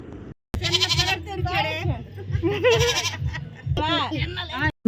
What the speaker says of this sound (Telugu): మేక వచ్చేసి దాని పిల్లని తీసుకున్నామని మే మే అని అరుస్తూనే ఉంది